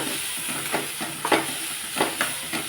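Pasta masala and Kashmiri red chilli powder being dry-roasted in a pan, giving a soft continuous sizzle with periodic scraping strokes of a spatula as the spices are stirred, no talking.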